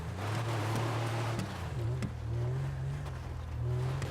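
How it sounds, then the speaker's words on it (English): In a GTA game, the engine of a Lampadati Pigalle off-roading drones low and steady, with the throttle rising and falling in repeated on-off swells amid rough ambient noise. "If you listen close to the engine of the car, you'll hear that I'm just on and off, on and off, on and off the gas"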